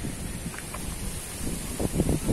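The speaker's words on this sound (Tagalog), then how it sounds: "Lakas ang hangin." Strong wind roars and buffets the microphone throughout, a continuous broadband rush with low gusty rumbles growing heavier toward the end.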